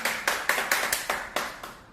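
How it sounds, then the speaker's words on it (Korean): A stroke rehabilitation patient claps his hands about eight times, close and distinct, in a fairly even but slightly irregular rhythm. "이거 박수 한번 쳐요, 박수."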